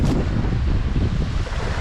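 Sea waves and wind on the Gulf of Mannar coast, a dense, continuous close roar of surf and gusting air buffeting the microphone, with no voices.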